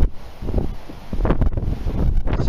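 Gusty wind buffets a microphone outdoors in an English field during a metal detecting hunt, a continuous low rumble with stronger bursts near the middle and end.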